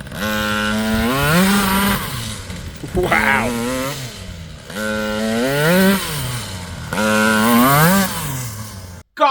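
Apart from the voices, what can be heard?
Raminator RC monster truck with Taylor 80cc engine running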